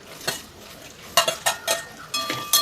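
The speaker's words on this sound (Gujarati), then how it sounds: "ચમચાની મદદથી એને પહેલાં તેલમાં સોતળી લઈશું" A spoon scraping and stirring okra in oil with cumin and asafoetida in a kadai, a handful of short bursts with brief pauses between, over a light oil sizzle.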